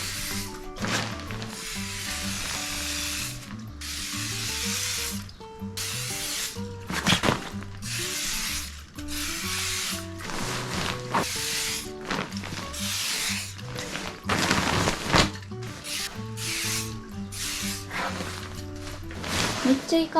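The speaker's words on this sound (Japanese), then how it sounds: "縫い目狙って防水スプレーをかけていきたいと思います" Waterproof spray hisses onto the seams of a sleeping bag in several short bursts, spaced unevenly over a steady musical background.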